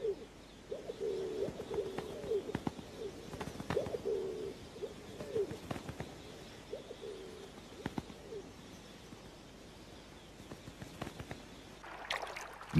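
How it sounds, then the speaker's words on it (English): Rock pigeons cooing in a repeated series of soft, low, rolling calls, moderately close and fairly quiet, with a brief burst of other noise at the very end and no speech. "rock pigeons mate"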